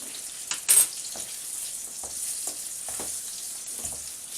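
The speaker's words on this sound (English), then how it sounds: "I think the fat is spitting a little bit there because this meat is frozen" Frozen meat frying in a pan, the hot fat spitting and crackling in sharp irregular pops over a steady soft sizzle, close and fairly quiet.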